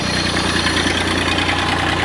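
A farm tractor's diesel engine idles steadily nearby during flood-irrigation work on a replant field, a constant low rumble with slight knocking vibration, no talk over it.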